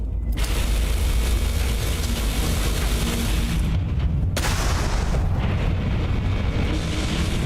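A grenade exploding in the video game Starfield, a loud, sustained boom with heavy low rumble filling the clip, a sharp break, then a second blast rumbling on.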